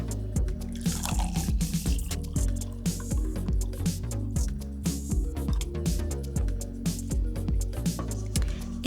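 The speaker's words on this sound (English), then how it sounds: "Step 1, you're going to pour your hot water into a jar about halfway." Hot water is poured into a jar until about half full, a steady run of close, wet dripping and gurgling pours with no one talking.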